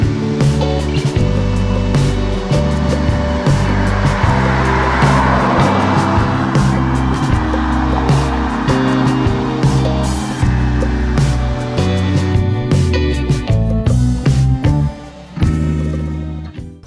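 A 2015 Hyundai Genesis engine revs loud and close, its pitch climbing in stepped, harmonic-rich pulls as the transmission shifts just short of redline, continuous for most of the stretch before briefly dropping off near the end.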